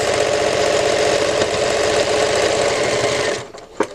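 A sewing machine quilting a patchwork bow of Cuddle fabric hums loudly and continuously at close range, then stops abruptly near the end.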